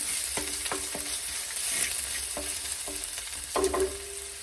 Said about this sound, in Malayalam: നന്നായിട്ട് എല്ലാം കൂടെ നന്നായിട്ട് ഇളക്കാം